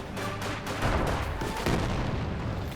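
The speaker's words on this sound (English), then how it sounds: "Heavy mortar here, pointing in the wrong direction." Heavy mortar and artillery fire in the Company of Heroes 2 strategy game, a run of dull booms and crackling blasts at a moderate, steady level.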